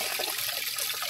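Water runs from a tap at a house still under construction, a steady splashing trickle heard close up for a moment.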